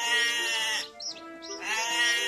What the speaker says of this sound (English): the chick found a goat, saying,